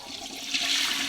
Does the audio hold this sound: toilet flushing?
yes